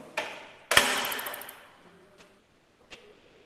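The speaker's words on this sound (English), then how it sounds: "Now we will be releasing the hammer for this one." An Izod impact tester's pendulum hammer swings down and strikes a brass specimen, one sharp metallic crack with a ringing decay, preceded by a small click and followed by a few faint ticks.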